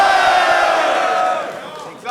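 A crowd at a rap battle roars and cheers in a loud, sustained wall of noise that fades slightly toward the end.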